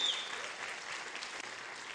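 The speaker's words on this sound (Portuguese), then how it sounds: "E aplauda Jesus também, que essa preguiça aí não é de Deus não." A church congregation applauds together in a steady wash of clapping that holds at even strength from start to finish.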